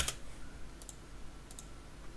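A few soft, sparse clicks from a computer keyboard and mouse during an Adobe After Effects editing session: one at the start and two quick pairs later, quiet and close in an otherwise hushed room.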